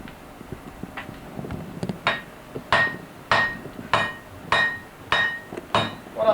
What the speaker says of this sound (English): I'll take it out and start pounding it on the anvil.